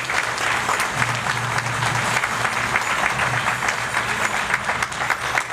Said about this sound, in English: don't you think and feel that Dr. Josephine deserves a better clap?